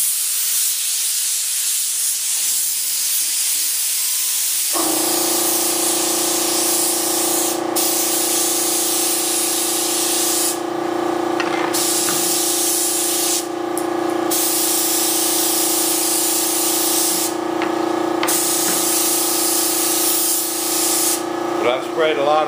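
Mold release sprayed from an aerosol can, a steady loud hiss starting after a few seconds of quiet and running continuously with brief sputters, close to the listener.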